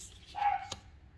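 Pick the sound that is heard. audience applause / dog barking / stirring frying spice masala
dog barking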